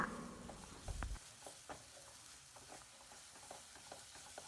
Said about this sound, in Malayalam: ഹൈ ഫ്ലെയിമിൽ തന്നെ വെച്ച് നല്ലോണം ഒന്ന് ചിക്കിയെടുക്കണം കേട്ടോ